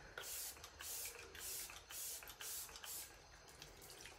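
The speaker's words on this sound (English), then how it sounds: "I'm gonna set this with Arbonne Refreshing Setting Spray" Several quick spritzes from a makeup setting spray bottle, close and crisp, in a loose rhythm, each a short airy hiss.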